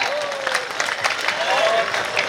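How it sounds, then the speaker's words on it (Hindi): A crowd at a poetry recital applauds, a full, steady wash of many hands clapping close and fairly loud, with faint voices mixed in. "एक बार दोनों हाथ उठाकर तालियां बजाए।"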